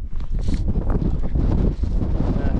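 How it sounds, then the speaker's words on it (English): Wind gusting across an exposed mountain summit on a Munro of the Beinn Dearg group in the Scottish Highlands, a steady low buffeting roar against the microphone throughout, loud and continuous with no voices. "a bit windy up top here, but the sun's still out, blowing the clouds away"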